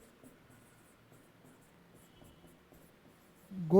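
Chalk or marker scratches across a board in short faint strokes during a physics lesson, quiet and intermittent, before a louder sound cuts in at the very end.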